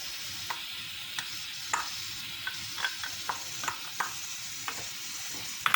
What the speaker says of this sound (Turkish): Onu yağa bırakıyorum kavrulması için